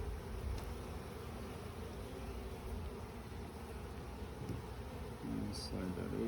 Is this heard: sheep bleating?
no